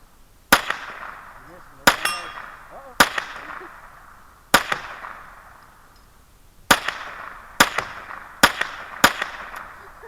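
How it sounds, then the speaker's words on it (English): Sharp metallic pings from bullets striking a steel target, eight impacts at irregular intervals, each ringing out and fading over a second or so. "The ringing noise is just so much more satisfying than just shooting something"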